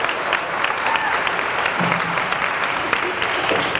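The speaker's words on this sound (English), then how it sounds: "How about a round of applause for our Klingon warriors?" A small crowd applauds actors playing Klingon warriors on a film set, with steady close clapping throughout and some voices mixed in under the claps.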